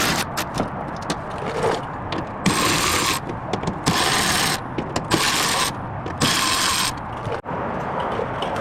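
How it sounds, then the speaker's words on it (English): A ratchet loosening 5/16 fasteners around a 2025 Ram 1500 truck's wheel well, with bursts of clicking turning in several separate runs, close and fairly loud, with metallic rubbing between. "we're going to loosen these 8 5/16 fasteners all the way around"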